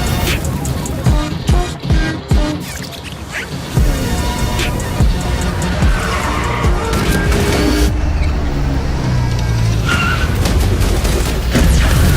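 A car drives fast and skids in a video game, with roaring engine, tire squeals and heavy booming impacts over a dense, loud game soundtrack.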